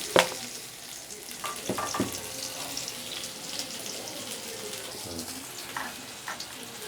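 Potato and pointed gourd pieces frying in a pan, giving a low continuous sizzle with scattered stirring clatters and faint watery sounds, close by and fairly quiet throughout.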